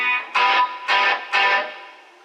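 Three short guitar notes or chords played through a Boss Katana amp with hall reverb, each cut off and followed by a spacious, fading tail that lingers after the last one.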